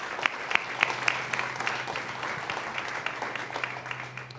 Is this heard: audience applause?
yes